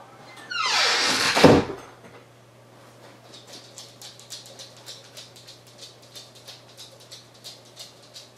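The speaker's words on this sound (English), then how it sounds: "Opening the door." An indoor door is opened with one loud sweeping scrape and creak lasting about a second, then a steady series of faint, rapid pattering clicks follows, like a dog's claws on the floor.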